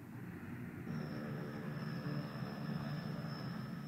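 Airplane engines running before takeoff in a radio play: a dense low rumble with a broad roar, joined after about a second by a thin high whine that holds steady to the end, with no talk.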